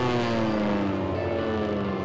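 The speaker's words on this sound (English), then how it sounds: "This airplane is a Mong Sport" Mong Sport biplane racing in a national championship air race, a steady loud propeller-engine drone with strong low harmonic tones holding evenly throughout, no voices.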